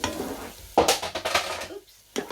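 Sliced leeks stirred in butter in a pan, with soft scraping stir strokes over a light sizzle and a couple of sharper utensil knocks against the pan.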